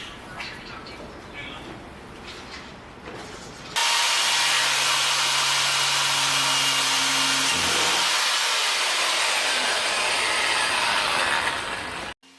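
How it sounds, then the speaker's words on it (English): A loud, high-pitched power drill whirs continuously for several seconds while drilling out a keyhole, starting abruptly after quieter background noise and cutting off sharply at the end. "are we drilling this keyhole"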